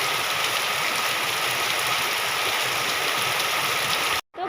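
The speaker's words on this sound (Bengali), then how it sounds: "এখন দেখতেছি আবার বৃষ্টি পড়তেছে।" Steady rain falls on a stormy day, a dense, even hiss that continues without a break and stops abruptly just before the end.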